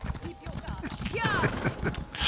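Horse hooves clip-clopping in The Elder Scrolls Online, a quick run of steady hoof beats under speech, with brief higher effects near the end.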